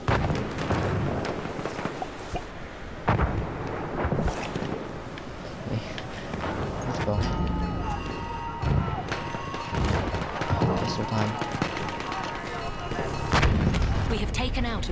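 Gunfire and heavy explosions in the video game Battlefield 1, repeated booming shots and blasts close and loud over a rumbling battlefield background, with a voice talking at times.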